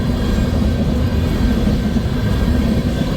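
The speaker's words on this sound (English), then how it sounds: "Both of these trains are heading east." An eastbound freight train on the former C&W main line rumbles past close by, a loud, continuous heavy roar and rattle of wheels that holds steady throughout.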